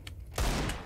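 A burst of gunfire in the game CS:GO cracks out loud and close after a short quiet stretch, then rolls on as a dense, sustained rattle of shots with no talk over it.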